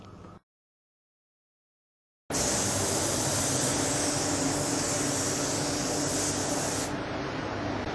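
Spray gun laying a very thin base coat of coarse silver aluminium metallic paint, a steady loud hiss running about six seconds after a brief burst and a pause, with no talking.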